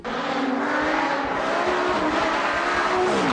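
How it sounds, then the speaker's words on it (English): A sports car's exhaust, with the baffles removed, roars loudly and continuously, the engine note rising and falling as it revs hard. "someone seems to have taken the baffles out of the exhaust because you can hear it about 400 miles away"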